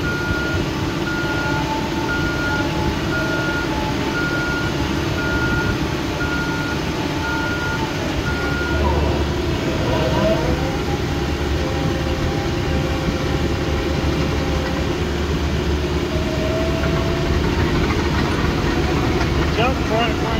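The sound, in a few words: dump truck engine and reversing beeps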